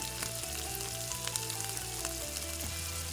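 Mustard seeds and cumin spluttering and crackling in hot oil in a pan, a steady dense sizzle with scattered sharp pops throughout.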